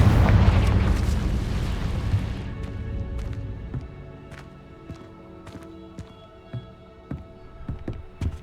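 A Confringo spell blast in Hogwarts Legacy erupts as a loud, booming explosion that fades over about two seconds, followed by scattered small clicks, pops and footstep-like taps.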